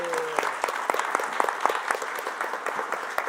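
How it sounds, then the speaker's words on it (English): A small audience claps for a panel after a talk on desert hiking trails, with steady, fairly close applause throughout and a brief voice at the very start. "let's give a round of applause to our panel today"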